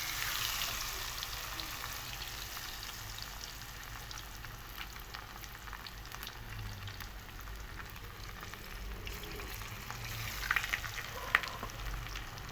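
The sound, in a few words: marinated fish pieces frying in oil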